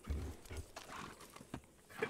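A horse in the video game Red Dead Redemption: a brief burst of clopping hooves and snorting movement, fairly quiet, mixed with muffled game ambience.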